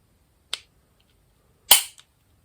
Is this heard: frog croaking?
no